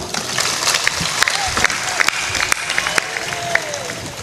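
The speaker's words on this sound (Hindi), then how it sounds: "ताली बजा दो एक बार।" A crowd gathered for a spiritual discourse in India claps together in a steady, dense patter with scattered sharper claps, fairly loud and continuous throughout.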